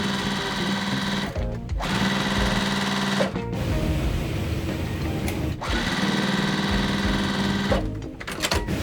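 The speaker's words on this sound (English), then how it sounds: "Now we're gonna sew on both sides of that line." A sewing machine stitches a Halloween quilt block along a marked line, its fast buzzing run loud and close, stopping briefly every couple of seconds before starting again.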